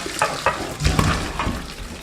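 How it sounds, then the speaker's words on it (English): Water splashes and gurgles as a pot of boiled potatoes is tipped out to drain, with a few clanks and a steady pouring rush for a couple of seconds. "Now drain the potatoes."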